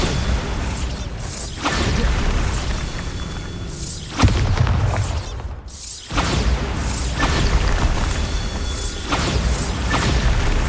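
Repeated Bombarda spell explosions in Hogwarts Legacy during a Merlin trial: loud booming blasts with crashing debris, several heavy bursts spaced across the stretch, with no talk over them.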